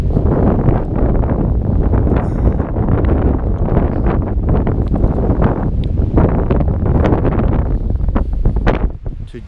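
Strong wind buffeting across open water on a Loch Lochy canoe trip, a loud continuous roar with gusty rumbling and microphone buffeting throughout, no talk.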